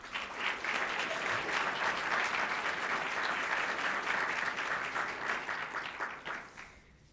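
An audience applauds to welcome speaker Jennifer Roberts at an art lecture, steady, dense clapping from a full room that holds for several seconds before tapering off.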